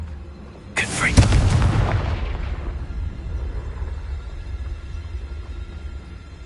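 A Confringo blasting spell detonates in the video game Hogwarts Legacy: a single sudden, loud fiery burst with a booming rumble that fades away over a few seconds into low background noise.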